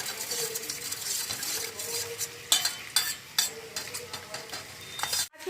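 Vegetables for chilli chicken sizzle and fry steadily in a pan, with a spoon or spatula repeatedly scraping and stirring through them up close, ending in a sharp clatter.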